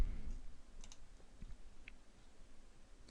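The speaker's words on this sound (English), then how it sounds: "And then I click OK." A computer mouse clicks a few times at a desk, giving short, faint, crisp ticks against a quiet room background.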